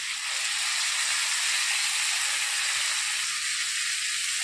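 Ginger paste hitting fried potatoes in a hot pan, giving a steady, bright, continuous sizzle with no talk.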